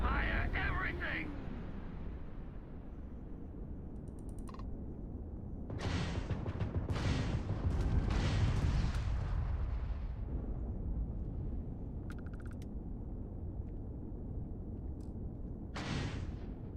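Autocannons and artillery fire in a video game: heavy booming blasts and bursts layered over continuous battle rumble, loudest in the middle stretch, with a sharp burst near the end.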